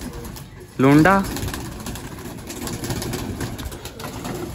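Pigeons coo at a loft during a pigeon-flying session, a low steady murmur of calls running throughout while someone speaks briefly near the start.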